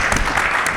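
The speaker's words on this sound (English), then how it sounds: "Hand of applause, please." A brief burst of audience applause at a panel discussion event, dense clapping heard for under a second at moderate loudness.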